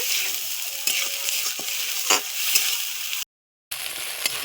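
Spices frying in oil in a pan for a fig and taro stolon curry, a soft crackling sizzle broken by stirring scrapes and small pops, with a short gap of silence near the end.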